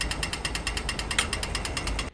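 A pedestrian crossing button in Australia gives off a rapid, steady mechanical ticking buzz for the green man, loud and close, with evenly spaced clicks that stop abruptly.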